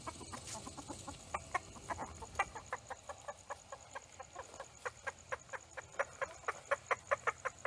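Backyard hens in a Deep South Texas garden cluck in a steady, rapid rhythm of short repeated calls, fairly soft and at middle distance.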